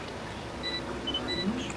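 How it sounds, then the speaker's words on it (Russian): A few short, thin electronic beeps chirp faintly against a low background hum, spaced irregularly. "Я слышу, как пищит GPS."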